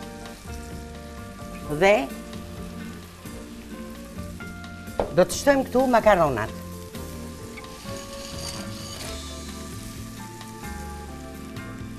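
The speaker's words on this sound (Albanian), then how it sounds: "Ndërsa këtu kemi vendosur qepën me bizelet, janë ka urdisur pak" Onion and peas frying in a pan, a steady close sizzle running throughout beneath a woman's speech and a few brief melodic music swells.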